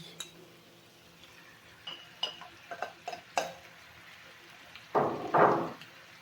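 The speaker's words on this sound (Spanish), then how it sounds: "Y aquí mismo le agregamos ya los champiñones." Mushrooms added to chicken in a pan, heard as light clinks and scrapes of a utensil against cookware, then a louder burst of frying sizzle near the end, with no talk.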